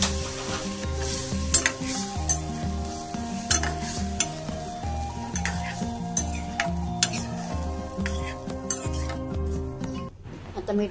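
A spoon stirs and scrapes a pan while a dal tempering of oil, garlic, cumin, asafoetida and turmeric sizzles with boiled dal, with rhythmic metal clinks over a steady fry and music playing in the background.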